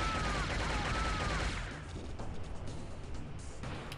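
Dense automatic gunfire in the PC shooter Shogo: Mobile Armor Division, loud continuous bursts for a second and a half that then thin into scattered shots and debris noise, with no talking.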